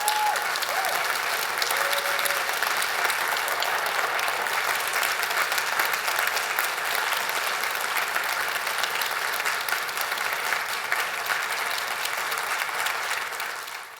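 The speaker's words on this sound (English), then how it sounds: "just a round of thanks and applause" A large audience at a university homecoming panel breaks into sustained applause, a loud, dense wash of many hands clapping that holds steady for about thirteen seconds before it tapers off at the end.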